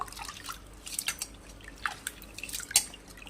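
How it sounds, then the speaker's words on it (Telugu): Moong dal and rice being washed by hand in water, with soft drips and light splashing sloshes scattered through the clip, close and fairly quiet with no talking. "పెసరపప్పు బియ్యం అయితే నానబెట్టానండి కడుక్కుంటున్నాను బాగా"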